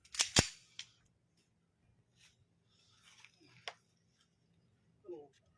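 A handgun-like firearm is fired in a test, giving one sharp, loud report near the start, then a few fainter clicks and handling noises with brief voices later.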